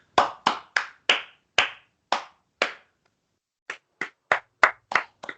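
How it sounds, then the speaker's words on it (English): A few people clap for a podcast host in a quiet room, two bursts of sharp, well-spaced claps with a short pause between them, close and alone without talk. "Round of applause for Nick."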